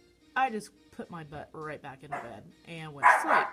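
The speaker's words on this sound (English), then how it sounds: "That's my dog." A dog barks with short, bright yelps late in the segment, overlapping a woman's close, continuous talking that dominates most of it.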